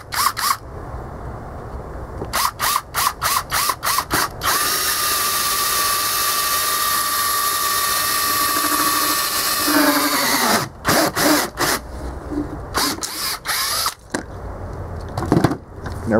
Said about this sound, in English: I'm gonna get a hole saw and see about just drilling that out right there